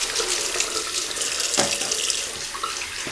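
A tap runs steadily into a sink while a razor is rinsed during a shave, a constant close hiss with a brief splash partway through.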